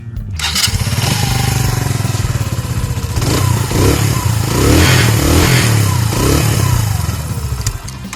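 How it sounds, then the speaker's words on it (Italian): A Mash motorcycle with a Suzuki-derived engine runs loud and close, its rough, throbbing idle broken by several short throttle blips that swell and fall back. "Vi faccio anche sentire il motore."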